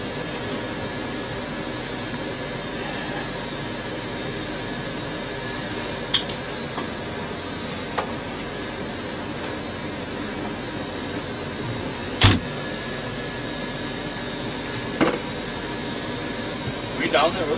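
A hair dryer blows steadily on a wet dog just rescued from a frozen river, a constant airy whoosh running throughout with a few brief clicks and knocks over it.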